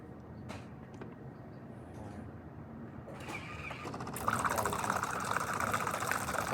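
Hot water pouring and hissing from a Jura XJ9 espresso machine, starting quietly and swelling into a louder steady gush near the end.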